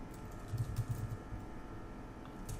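Soft, quick keystrokes on a computer keyboard while web form code is edited, a short cluster of muted taps early on and a lone tap near the end, faint over steady room hum.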